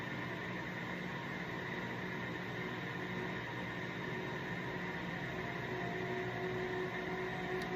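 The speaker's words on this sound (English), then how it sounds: "The noise you hear in the background is the humidifiers going." Humidifiers run in a cold workshop, a steady faint broadband hiss and hum that stays constant and unbroken throughout, with no talk over it.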